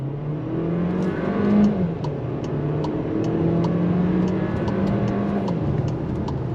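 A 2025 VW Taos engine revs up through the gears in manual mode, its pitch rising and dropping with each shift, loud and close from inside the cabin.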